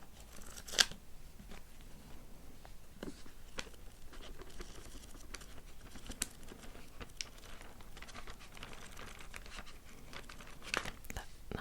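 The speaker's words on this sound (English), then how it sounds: "Nice fanning sound." Thin, tissue-like pages of an old book are fanned and turned up close, giving soft papery flutters, rustles and crinkles with a few sharper flicks, quiet and intimate with no talking.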